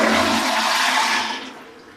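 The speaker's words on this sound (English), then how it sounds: "because it's like flushing an airline toilet. It's extremely loud." A resort hotel toilet flushes with a loud, close rush of water that stays strong for about a second and a half, then fades as the bowl drains.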